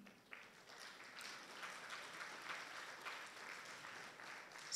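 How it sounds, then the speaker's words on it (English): An audience at an all-school orientation for the 2022-23 school year applauds steadily for about five seconds, a dense, even wash of clapping that sounds moderately distant. "we can give applause as they come up"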